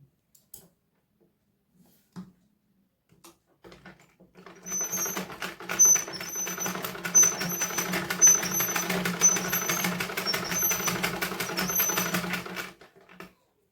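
Sewing machine stitching blouse fabric, a steady fast mechanical whir with rapid ticking that starts after a few faint clicks, runs evenly close up for about eight seconds, then stops.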